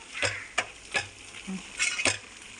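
A tempering of spices fries for a Kokani mutton curry, with quiet sizzling broken by about six short scraping strokes of a spoon against the pan at an uneven pace.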